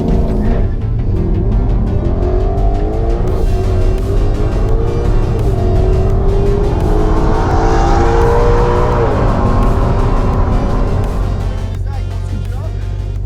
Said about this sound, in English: He's pitting his Mach-E against a track-ready Dyno Juice Mustang.